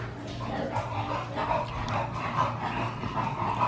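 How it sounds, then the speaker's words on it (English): Several dogs bark and yip in a steady, dense chorus that fills the whole stretch at moderate loudness, with no pauses and no one talking over it. "There's the dogs."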